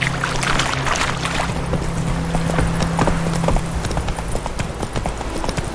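Hooves of Roach, Geralt's horse in The Witcher 3, clopping in a steady rapid rhythm at close range, with a continuous low hum and background texture running underneath throughout.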